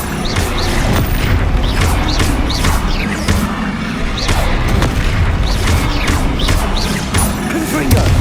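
Loud, continuous booming blasts from the Bombarda spell in Hogwarts Legacy, heavy low rumble with repeated crashing impacts, mixed with game effects and a voice.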